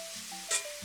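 Steak searing in a hot skillet, a faint steady sizzle with a brief louder hiss burst midway, no talk.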